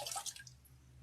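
Warm water dripping and splashing from a bucket during a body wash and scrub, a few close, bright splashes at first that quickly thin out over a low steady hum.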